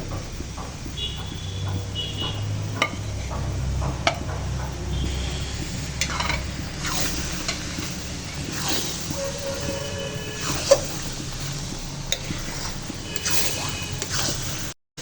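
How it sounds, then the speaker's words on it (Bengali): Olive pickle with sugar and spices is stirred again and again in a kadai with a spatula. It gives soft, continuous scraping and gentle sizzling at close range, with a few sharper clinks. "চিনি দেওয়ার পরে কিন্তু কড়াই তলে লেগে যাওয়ার সম্ভাবনা থাকে তাই বারবার ঘুটনি দিয়ে নাড়াচাড়া করতে হবে"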